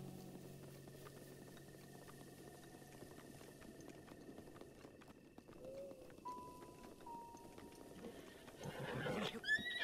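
A horse whinnies amid busy ambience in the video game Breath of the Wild, with a louder burst of rustling and movement near the end; no speech.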